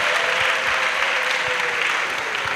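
Church congregation at a pastoral session clapping and cheering in acclamation, a loud, dense, sustained burst of applause with a held voice running underneath.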